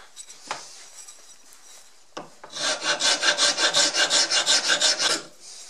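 A 4-in-1 wood rasp files a wooden axe handle in a steady run of about a dozen rhythmic rasping strokes, close and fairly loud, after a couple of isolated knocks.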